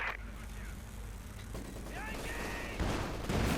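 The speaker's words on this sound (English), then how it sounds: "Field guns firing away there." Field guns firing in the real-time strategy game Company of Heroes 2, heard as dense rumbling battle booms and mechanical noise beneath continuous fast commentary.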